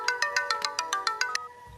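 A phone's electronic ringtone plays a bright, rapid repeating pattern of about ten evenly spaced beeps, clear and close, then stops abruptly with no voices.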